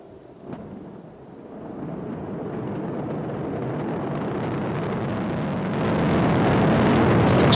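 Ariane 5 GS rocket liftoff carrying Helios 2B, the Vulcain main engine igniting into a deep, rumbling roar that builds steadily and swells louder toward the end, with no voices over it.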